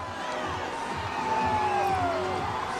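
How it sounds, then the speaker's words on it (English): A crowd at Wildcat Stadium during the Eastmont vs Moses Lake high school football game cheers from below, a diffuse, moderately distant roar with scattered shouts and whoops that swells slightly. "you can hear the crowd down below us"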